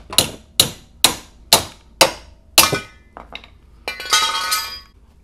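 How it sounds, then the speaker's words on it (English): A hammer taps out the subframe tubes on a MINI Cooper R50/R53: six sharp, evenly spaced metallic strikes ring close and loud, then lighter clinks and a brief scraping rattle. "Tap the subframe tubes out with a hammer."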